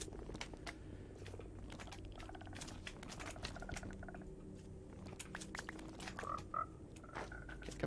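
Frogs in Minecraft survival mode, faint clicky croaks and soft squishy pops scattered over quiet background game sounds, with a couple of brighter blips near the end and no speech.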